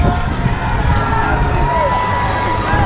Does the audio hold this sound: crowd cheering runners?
yes